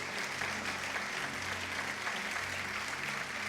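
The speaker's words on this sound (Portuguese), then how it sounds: "Você pode aplaudir o Senhor?" A church congregation applauds during a communion service, a dense steady roar of many hands clapping together, fairly distant and continuous, with no one speaking over it.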